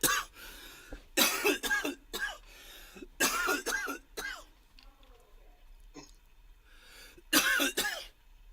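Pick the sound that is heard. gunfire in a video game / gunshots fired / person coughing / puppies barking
person coughing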